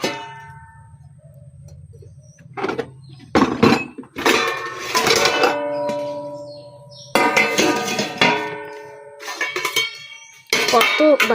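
Metal puja utensils being washed by hand, with repeated clangs and ringing clinks of dishes knocking together, loud and close, and someone speaking now and then between them.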